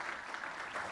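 Audience at an Arab land conference plenary session applauding, a steady wash of clapping from many hands, fairly faint and distant, lasting under a second with no clear voices over it.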